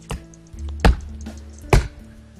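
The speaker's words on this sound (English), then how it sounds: "Gonna be chopping some wood." Wood chopping in the game Roblox, three sharp axe thwacks spaced roughly evenly apart, loud and close, with a low hum between strikes and no talk.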